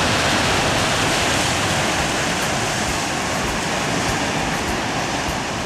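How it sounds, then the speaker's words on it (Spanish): Atlantic Ocean waves wash onto a Tenerife shore on a calm day, forming a loud, steady, continuous roar of surf with no breaks and no voices. "eso es el océano Atlántico para ustedes."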